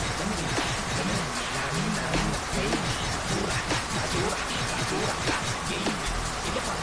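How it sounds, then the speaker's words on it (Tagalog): Heavy rain falls steadily in a broad, continuous hiss of dense drops at constant loudness, with no voices. "Malakas ang ulan ngayon."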